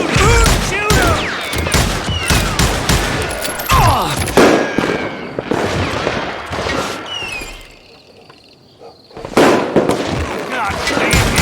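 Dense, loud gunfire from the video game Call of Juarez: rapid overlapping shots and bursts, briefly easing before resuming, with voices shouting over the shooting.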